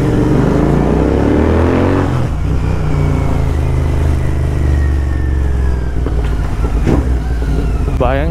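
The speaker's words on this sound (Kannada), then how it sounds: "ಹೆಂಗೆ ಬರ್ತೈತೆ ನೋಡಿರಿ ಸೌಂಡು, ಪಟ್ ಪಟ್ ಪಟ್ ಪಟ್ ಅಂತ" Royal Enfield GT650 motorcycle with a loud aftermarket Red Rooster exhaust, revving and popping close by on a road, a heavy continuous engine roar with rising and falling revs.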